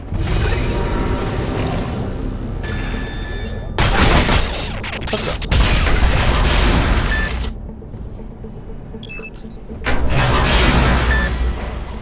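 Turret gunfire in Shadow Complex Remastered: dense, loud bursts of shooting and booms with mechanical clanks, sustained across the whole stretch with brief dips between volleys.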